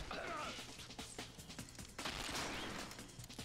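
Revolver and gunfire sounds from the video game Red Steel: scattered sharp shots and crashing impacts, with a heavier burst midway, fairly loud over a busy game background.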